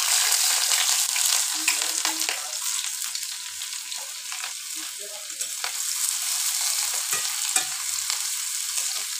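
Onion, green chili and dried chili frying in mustard oil in a kadai, a continuous bright sizzle with occasional stirring scrapes and clinks, fairly close and without talk.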